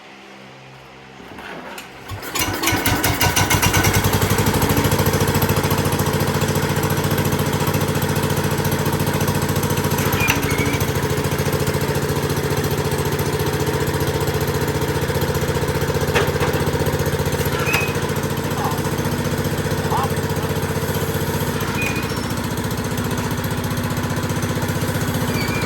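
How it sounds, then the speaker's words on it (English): An International Cub Cadet garden tractor engine cranks and catches after a couple of seconds, then runs with a loud, steady mechanical drone close by, holding a fairly even pace with slight shifts in speed. "Well, it runs and revs."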